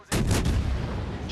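Naval guns from a ship in World of Warships fire a single heavy, booming salvo that bursts in suddenly and then rolls into a long, low rumbling tail, loud and close, with no talk.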